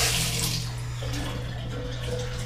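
Water running steadily from a shower in a bathroom, a continuous close hiss and splash with no pauses.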